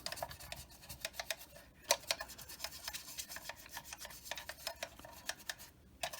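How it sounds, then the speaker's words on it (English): A stiff bristle brush and a Q-tip scrub clay wash on a Monogram M3 Lee model tank, producing rapid close scratchy strokes in a steady rasping rhythm. "using a combination of stiff bristle brush and a Q-tip, I just start scrubbing this"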